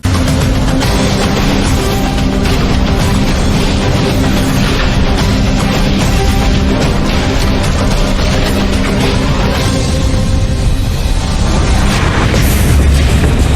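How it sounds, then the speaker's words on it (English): A massive explosion of a gas tank holding 400 gallons of gasoline roars loud and close beside firefighters, a sustained, thundering blast with continuous rumbling and crackling and no voices. "witness a searing gas tank explosion just feet from firefighters"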